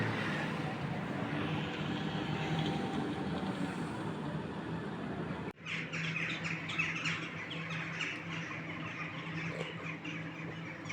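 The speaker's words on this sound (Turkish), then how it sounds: "Bak kargalar nasıl. Hava bozacağı zaman kargaların sesleri." Crows caw from some distance outdoors as the weather is about to turn, several overlapping calls over a steady background hum, with a brief knock partway through.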